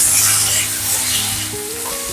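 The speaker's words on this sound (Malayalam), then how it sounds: "ഇനി തക്കാളിയും കൂടിയിട്ട് നമുക്ക് നന്നായിട്ട് അങ്ങ് വഴറ്റിയെടുക്കാം." Tomatoes sautéing in a pan for a Kerala karimeen pollichathu, giving a steady, fairly loud sizzle with stirring that carries on throughout, with no voices.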